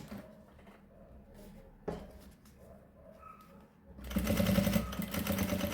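Fabric is handled with light rustles and thumps, then an electric sewing machine starts and runs steadily, its fast, loud mechanical whirring stitching a seam on a fabric baby pouch.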